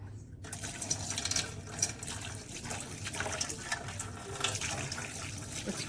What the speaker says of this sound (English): It's dripping from under the spout.